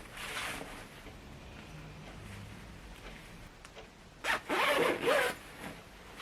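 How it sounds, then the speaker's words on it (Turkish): A zipper is drawn closed while a floor cushion is being sewn: a quiet rasp near the start, then two louder close-up zipping strokes toward the end, with no talking. "Evet şimdi fermuarı tekrar birleştirelim."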